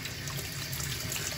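Green lentils are washed in a bowl of water under a running tap, with a steady, close gush and splash of flowing water over a short span and no voices.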